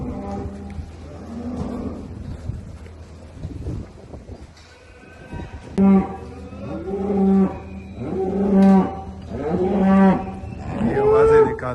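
Purebred dairy cows lowing on a fresh milk farm in Europe, a series of loud, drawn-out moos repeating every second or so after a quieter stretch, with a voice talking near the start.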